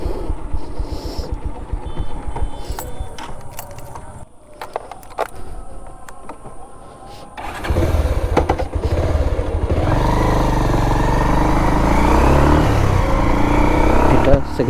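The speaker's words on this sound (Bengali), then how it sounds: "সো এবার আমরা পুরনো পালসারের আপ গিয়ারে পাওয়ারটা চেক দিব" An old Bajaj Pulsar motorcycle accelerates up through its gears, engine note rising loud and close in the second half after a quieter stretch of idle and passing traffic, with a voice talking over it.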